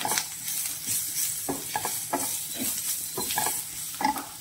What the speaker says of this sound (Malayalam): ഇനി ഈ പൊടികളെല്ലാം തന്നെ ഞാൻ ഈ ഒരു ഉള്ളി പേസ്റ്റിലേക്ക് ഇട്ട് കൊടുത്തിട്ടുണ്ട്. ഇനി ഇതൊന്ന് നമുക്ക് ചൂടാക്കിയെടുക്കാം.